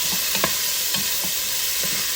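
Two tomatoes go into a pan with garlic and fry, giving a constant loud sizzle with a few soft scraping stirs near the start.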